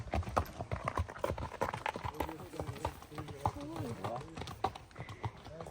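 Horses walking along a mountain trail in Banff National Park, Canada, hooves clip-clopping in a steady uneven rhythm close by, with people talking over them.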